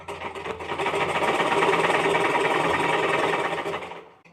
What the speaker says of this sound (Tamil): லைட்டாக அமுக்கி மெதுவாக அடிக்கணும் இல்லைன்னா ஊசி வந்து உடஞ்சி போகும்